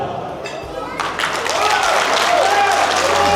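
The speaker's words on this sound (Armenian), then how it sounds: "հիմա ուզում ենք լսենք հարցիկի կողմի ծափերը" Guests on the bride's side at an Armenian wedding celebration break into applause, which swells into a dense, sustained clatter of many hands.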